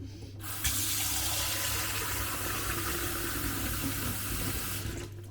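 Tap water runs steadily to wet a bowl coated with chocolate while making Starbucks-style cookies, a close, loud, even rush that starts abruptly and cuts off near the end.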